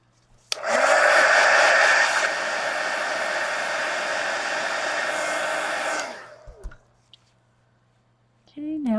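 A hair dryer blows on a mixed media collage art card, switching on with a loud steady roar for about five seconds, dropping slightly in pitch, then cutting off. Brief handling noises follow, and a voice starts at the end.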